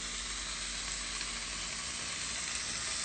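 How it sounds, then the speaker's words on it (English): Bacon or pancetta sizzles in a pan as its fat renders, a steady, soft, close crackling hiss with no talk. "we're going to do our bacon or our pancetta. And this, we can see that fat is starting to render."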